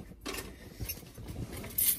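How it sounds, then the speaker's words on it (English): Keys jangle up close in a quiet indoor setting, producing a faint, irregular metallic clinking and rattling with a brighter jingle at the end. "Got the keys."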